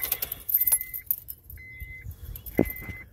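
Car keys jangle close up as a Honda's ignition is switched on, followed by a few soft electronic chimes and a brief clunk, fairly quiet overall.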